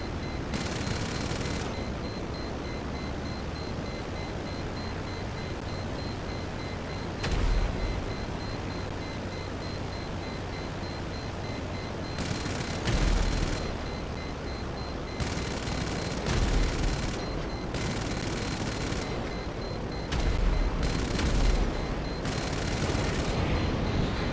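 Sustained gunfire from jets in GTA 5 Online, a dense continuous barrage with a few louder booming bursts and brief gaps, loud and steady throughout with no talking.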